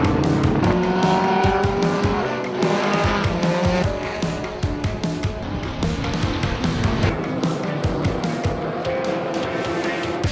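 Trans Am race cars at SpeedFest howl past one after another, engines shrieking through gear changes as tires squeal and skid, loud and close with overlapping cars, no talking.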